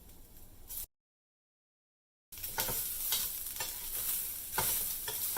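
Cooked rice being stirred into a coconut rice mixture in a pan, soft scraping stirs over a light sizzle, broken by a short stretch of silence.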